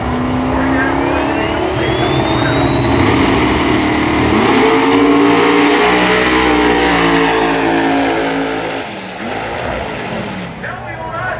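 A Ford Durango hot rod drag racing at Bradenton Motorsports Park roars loud and close, its engine revving and climbing in pitch before easing off near the end.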